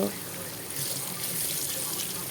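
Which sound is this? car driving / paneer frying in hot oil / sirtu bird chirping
paneer frying in hot oil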